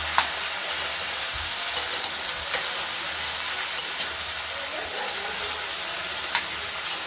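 Mixed vegetables, ridge gourd, potato, sweet potato, capsicum, squash, carrot and peas, are stirred in a hot pan, a dense steady sizzle with light periodic scrapes and taps from the spoon, close and without speech.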